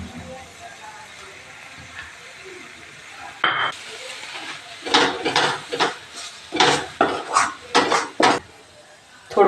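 A spoon scrapes and clatters in a pan as bottle gourd laddu mixture with grated coconut, fresh milk cream and ghee is stirred, a quiet stretch giving way to a run of loud, rhythmic scraping strokes.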